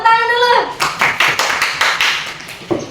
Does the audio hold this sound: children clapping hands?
yes